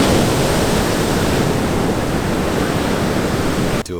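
Ocean waves roll onto a beach in a Mexican surf town, a steady loud wash of surf and wind noise that fills the whole clip without breaks until it cuts out abruptly at the end.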